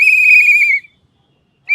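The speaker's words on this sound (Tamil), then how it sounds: "விசில் ஊதுறா இல்லையா?" At a crowded political rally in Salem, a loud, shrill whistle blast sounds close by for nearly a second, then cuts off into quiet before a second blast begins at the end.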